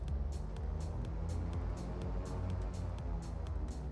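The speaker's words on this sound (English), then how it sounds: "Which this plane gets real loud." Inside the cockpit of a Cessna 414 twin-engine plane, a steady low engine drone hums continuously, with a faint repeating higher ticking pattern riding over it.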